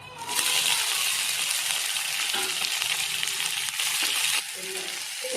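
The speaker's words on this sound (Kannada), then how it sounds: "ಇವಾಗ ಈರುಳ್ಳಿ, ಕ್ಯಾಪ್ಸಿಕಮ್ಮು ಇದನ್ನು ಹಾಕೋಣ ಒಗ್ಗರಣೆಗೆ." Onion and capsicum hit the hot tempering oil with a loud, steady sizzle close up, frying continuously with light stirring scrapes before the hiss drops away near the end.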